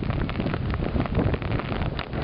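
Gusty wind buffets the microphone in a loud, rumbling roar that fluctuates but never stops, with no voices.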